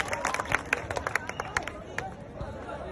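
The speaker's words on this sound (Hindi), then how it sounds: "जोरदार तालियां बजा करके हर्ष ठकारा जी को आमंत्रित करता हूं" Audience members at a Hindi-language public gathering clap to welcome a speaker, a short burst of scattered, uneven claps rising over crowd chatter and voices, then thinning out.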